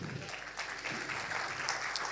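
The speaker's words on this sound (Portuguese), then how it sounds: "Quem pode dar um aleluia e um aplauso bem forte ao Senhor?" Congregation applause during a Portuguese-language church service, a brief burst of clapping from many hands that fills the room evenly, with no speech over it.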